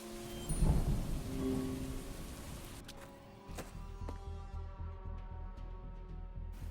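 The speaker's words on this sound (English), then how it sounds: "Should we hide from the rain in the abandoned house first?" Rain and thunder in the video game Murder by Choice: steady rainfall under a low, rolling thunder rumble that swells and persists, with sharp drip-like ticks on top.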